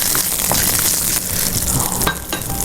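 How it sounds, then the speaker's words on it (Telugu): Mustard seeds and chana dal frying in hot oil produce a loud, steady sizzle with faint crackles and pops throughout, close and continuous with no voices. "కొంచెం ఆయిల్ వేసి ఆవాలు, కొంచెం శనగపప్పు, ఇవి కొంచెం వేగిన తర్వాత"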